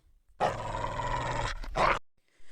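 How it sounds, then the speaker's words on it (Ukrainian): A low, rough growl rumbles for about a second, then a shorter second growl follows, close and fairly loud. "Загарчав пес."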